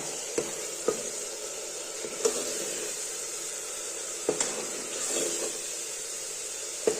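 Masala spices fry in hot oil for a mutton curry, a continuous close sizzle and hiss punctuated by several sharp clacks of a spoon stirring against the pan.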